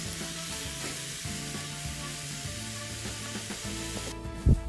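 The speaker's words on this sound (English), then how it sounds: "we're going to go ahead and start to brown our turkey mix" Ground turkey and diced onion browning in a pan, a continuous sizzling hiss beneath prominent background music, with a brief clunk near the end.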